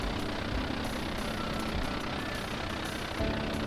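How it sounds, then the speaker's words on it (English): A loud, steady plane engine drones in Microsoft Flight Simulator, an old aircraft with a constant broadband roar that holds even throughout with no voices. "Somebody's got a loud plane."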